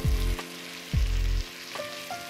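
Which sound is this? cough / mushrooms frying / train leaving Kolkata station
mushrooms frying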